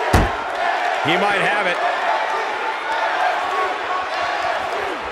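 A wrestling arena crowd in WWE 2K18 roars in a steady wash of cheering after an impact thud, with a commentator speaking briefly over the noise.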